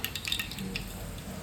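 Mustard seeds spluttering in hot oil, about three to four spoonfuls, for a quick onion-tomato chutney: close, crackly sizzling with a few sharp pops and faint metal clinks.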